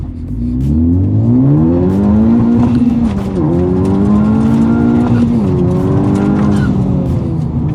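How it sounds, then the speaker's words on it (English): A Honda Civic Type R revs hard through a launch from about 1800 RPM, the engine note climbing loud and close through rising pitch sweeps with brief dips at the gear changes, and no talk. "We're gonna do about a 1800 RPM launch."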